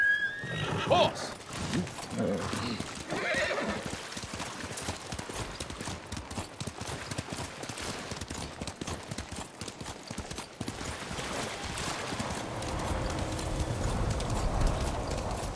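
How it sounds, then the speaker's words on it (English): A horse whinnies near the start in the video game Ghost of Tsushima, then hooves clip-clop in a steady galloping rhythm over a continuous background of game sound. "Horse!"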